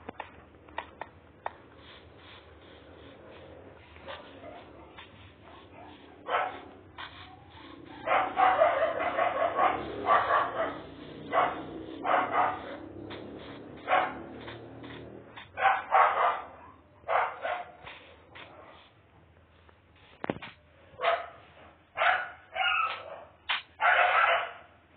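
A dog barks repeatedly in bursts, fairly close, with yips and short pauses between clusters of barks.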